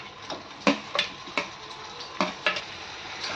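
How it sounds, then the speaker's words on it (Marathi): Tomatoes fry with garlic in a pan for a dry prawn masala, a soft sizzle broken by sharp scraping and tapping stirring strokes at irregular intervals, close up with no talk. "टोमॅटो नरम पडेपर्यंत याला परतून घ्यायचं।"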